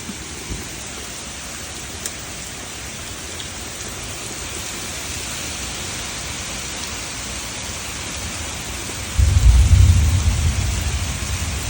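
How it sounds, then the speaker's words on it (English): Steady heavy rain hisses throughout a thunderstorm during flash-flood conditions, and a deep rumble of thunder swells near the end, then slowly fades under the downpour. "If you heard that thunder, let me know."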